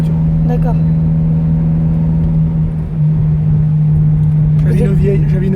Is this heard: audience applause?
no